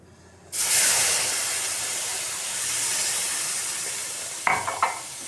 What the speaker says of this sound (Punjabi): ਹੁਣ ਆਪਾਂ ਇਹਦੇ ਵਿੱਚ ਪਾਵਾਂਗੇ ਦੁੱਧ